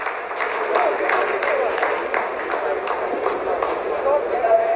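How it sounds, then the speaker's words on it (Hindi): ISRO scientists applaud during the Chandrayaan-3 lunar landing, a dense, continuous rattle of clapping heard under steady commentary from a man. "आप इस तालियों के गड़गड़ाहट को सुन सकते हैं"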